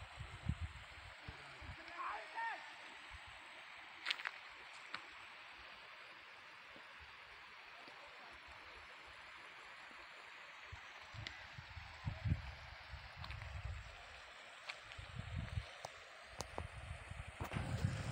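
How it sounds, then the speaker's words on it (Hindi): A mountain spring stream flows steadily as a constant soft rush of water outdoors, with wind buffeting the microphone and occasional faint voices in the distance. "ये देखिए कितना फ्लो है चश्मे के पानी का।"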